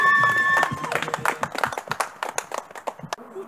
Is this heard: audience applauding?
yes